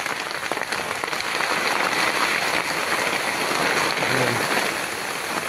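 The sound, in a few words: heavy rain falling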